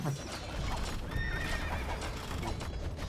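A horse in a medieval strategy video game whinnies and neighs over clip-clopping hooves, a short clear call amid low game ambience.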